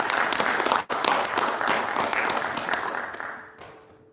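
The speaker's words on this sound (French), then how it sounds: "On peut l'applaudir?" An audience at an arts-for-peace award event applauds a laureate, with dense, sustained clapping from a sizeable crowd that keeps going strong before tapering off near the end.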